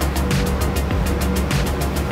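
An Apreamare 35 Speedster motor boat powered by outboard engines runs at speed under added throttle, a loud continuous engine drone with rhythmic surges of wind and water rushing past.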